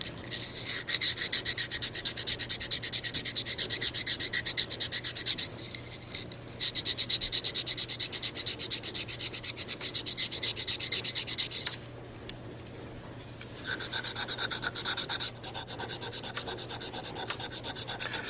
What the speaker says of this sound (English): You can get under there and sand that.